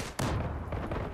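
Gunfire in the online shooter Zula: a short, sharp burst of shots with a quick crack followed by brief rattling echoes.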